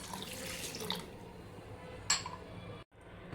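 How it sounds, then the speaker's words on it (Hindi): Water is poured from a bowl into a whisked curd and gram flour mix for Rajasthani kadhi: a steady, close splashing pour that lasts about two seconds, then a brief clink and a quieter stretch. "सेम बाउल की मदद से हम 3 बाउल भर के पानी डालेंगे"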